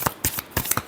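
A deck of tarot cards gets a brief final shuffle, giving a few quick, close, crisp flicking snaps within a second.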